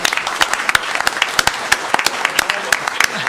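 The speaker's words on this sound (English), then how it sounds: "if we can just give a quick round of applause" A small group at a Largo city commission meeting gives a brief round of applause, with distinct, uneven individual claps close by and a murmur of voices underneath.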